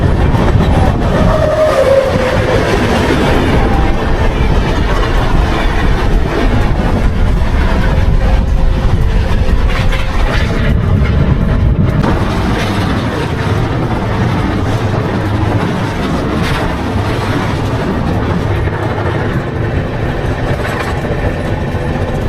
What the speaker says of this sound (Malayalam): 2 മിനിറ്റത്തെ സ്റ്റോപ്പിന് ശേഷം രേഖാമൈൻസിൽ നിന്ന് ട്രെയിൻ ഹൗറ ലക്ഷ്യമാക്കി നേരെ